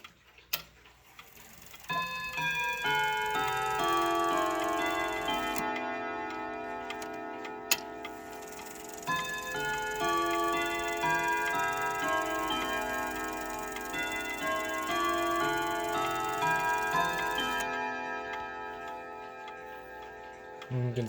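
A 1975 Jauch triple-chime box wall clock plays the Wellington chime, its resonant rod notes ringing out slowly in a steady, sustained melody with nothing else heard.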